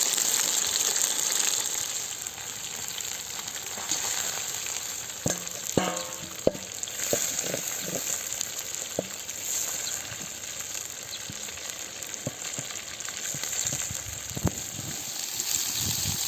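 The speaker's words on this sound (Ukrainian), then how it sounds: "Закинули цибульку і зараз будемо її обсмажувати." Onions fry in a hot pan with a loud, steady sizzle throughout, broken by occasional scraping stirs and light clatter from utensils, heard up close with no talking.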